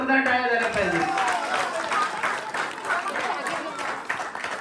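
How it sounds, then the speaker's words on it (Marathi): An audience at a village Satyanarayan puja gathering applauds a cricket team: a voice is heard briefly at the start, then dense, continuous clapping from a crowd carries on at a fairly loud, even level. "या रत्नसागर क्रिकेट संघासाठी आणि या सर्व युवा टीम साठी जोरदार टाळ्या झाल्या पाहिजे"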